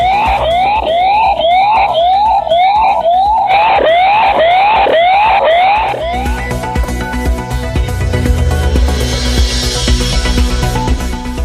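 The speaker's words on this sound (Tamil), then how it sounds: "சைரன் ஒலி கேட்டதுடன் யானைகள் அங்கிருந்து ஓடிய சிசிடிவி காட்சி" A loud siren wails in rapid repeating rising sweeps, sounded to drive away elephants, then gives way to a dense, noisy mechanical roar that fills the rest of the recording.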